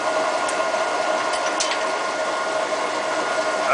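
A Linotype typesetting machine running, producing a steady, loud mechanical whir and hum throughout with a few brief metallic clicks and clacks near the start, no voices.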